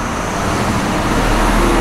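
A truck rumbles past loudly on a road near a garage, a heavy continuous engine and tyre roar that swells slightly as it nears, drowning out everything else.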